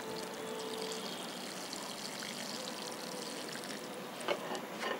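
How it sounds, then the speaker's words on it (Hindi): Water poured from above into a potted adenium plant grown from a cutting, a steady continuous splashing trickle heard up close for several seconds with a few louder spatters near the end. "इसमें अब थोड़ा पानी डाल देती हूँ मैं।"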